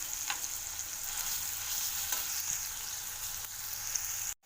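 Chopped onion sizzles in hot oil with green chili paste for a beans palya, a steady, close, dense crackle with faint stirring ticks that cuts off abruptly at the very end.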